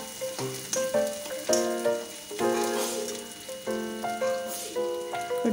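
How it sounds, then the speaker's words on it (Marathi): Onion sizzles and fries in a hot pan, a loud, close crackle with repeated surges as it is stirred, heard alone without talk. "कांदा टाकला मी तर कांदा तळून घ्यायचा."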